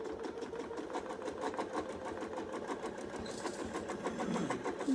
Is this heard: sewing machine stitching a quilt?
yes